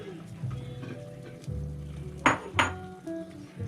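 A Thai bowl is taken out and handled in a kitchen, with a faint clatter and then two bright ceramic clinks close together. A voice talks throughout in the background.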